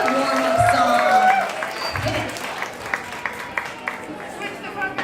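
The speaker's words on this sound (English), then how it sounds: "let's give it a big round of applause" Crowd applause at a DJ switch-up mix-up finals event, loud clapping and cheering at first, then fading into scattered claps and chatter.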